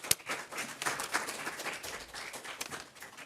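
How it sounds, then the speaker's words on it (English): Scattered applause from a small lunch-and-learn audience at a medical center talk, quiet and thin, with a few distinct claps standing out among a light patter of hands. "So please give him a round of applause."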